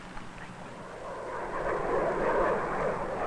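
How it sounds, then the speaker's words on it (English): A jet plane passes overhead, a broad rushing roar that swells steadily louder over a few seconds, heard alone in a 1965 educational film. "Jet plane flies a lot higher and faster than Quacker."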